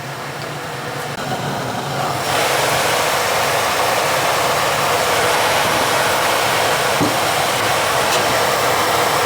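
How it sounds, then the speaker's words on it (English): A gas furnace blower fan in an apartment kicks on after a quiet start and settles into a loud, steady whooshing roar that runs unbroken to the end. "There goes the fan. Cool. All right, so the fan is working."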